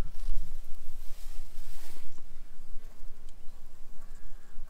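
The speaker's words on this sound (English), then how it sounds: "the bees are coming right through" Honeybees buzzing around a gap in a hive feeder at a quarantine apiary, a continuous close, low droning hum with bees passing near and away, swelling and fading without pause.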